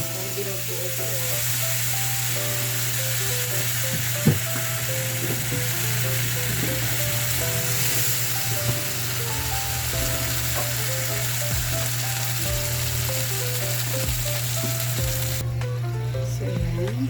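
Beef burger steak sizzling loudly in a pan as water is poured in slowly, a dense continuous frying hiss with scattered pops and a few spoon knocks, steady throughout before dropping off at the very end.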